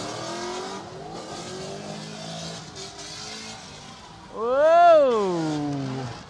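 Big-bodied factory V8 muscle cars, a newer Mustang and Camaro, drifting at a drift competition: a steady engine drone, then a loud close surge that rises and falls in pitch as one car sweeps past, with tire noise throughout.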